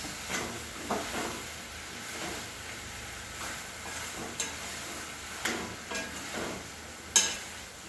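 Soya chunks being stirred in a pan during breakfast cooking, soft scraping spoon strokes at a steady rhythm over a faint low sizzle, close and quiet.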